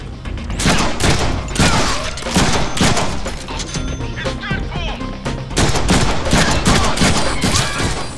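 Rapid gunfire from enemies in a Deadpool video game, dense overlapping bursts of shots that run almost continuously at loud, close range, with brief dips between volleys.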